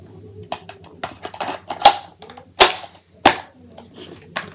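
An airsoft gun's magazine is released and handled using its double-sided mag release, producing several sharp close clicks and snaps with louder distinct clacks among small rattles, and no speech.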